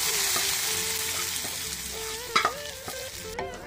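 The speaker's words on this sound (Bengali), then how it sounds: "এখন আমি চুলা থেকে এগুলোকে নামিয়ে ডালের ভিতরে দিয়ে দিচ্ছি।" Browned onion tempering poured from the stove into cooked lentils, a loud sizzling hiss that gradually settles, with a few utensil clinks near the end.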